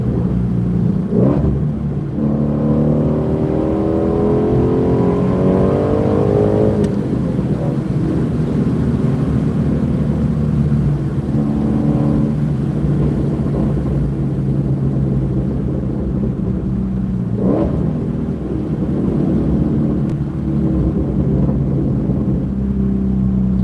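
A Shelby GT350 with 526 horsepower driven hard on cold roads, its engine a loud, steady rumble heard from inside the car, with a rising rev early on, near and constant throughout.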